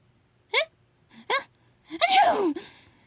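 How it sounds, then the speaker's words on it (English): Baby elephant Dumbo sneezes in a cartoon circus story, with a few quick sniffling breaths leading into one loud, drawn-out sneeze; the sneeze sounds vocal, likely a voice performing it. "The baby elephant sneezed."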